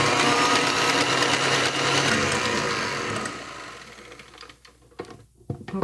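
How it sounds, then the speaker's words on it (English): Electric hand mixer whirring steadily as it beats cream for a German no-bake cheese-cream cake, loud and continuous, then thinning and fading toward the end with a few clattering knocks. "I'll give it another round with the mixer. So I will mix this now for 5 minutes."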